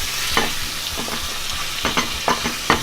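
Beef for stroganoff sizzles loudly in a pan under a constant frying hiss, broken by several sharp scrapes and clacks as it is stirred.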